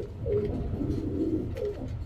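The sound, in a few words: pigeons cooing, silver pattern pigeons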